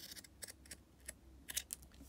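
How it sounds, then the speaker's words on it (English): A sharp pair of scissors snips through binca cross-stitch fabric in a few quiet, crisp cuts, close and faint with no talking. "In terms of cutting it to size, I just take a sharp pair of scissors"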